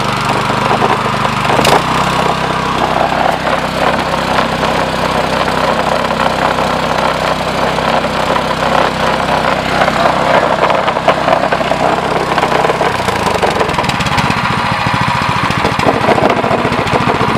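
A DuraMax XP7.0HPE 7.0 HP electric-start generator engine idles steadily up close, a loud continuous low drone with a constant mechanical rattle, its pitch shifting slightly near the end.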